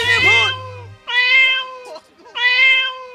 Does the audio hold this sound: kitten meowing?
yes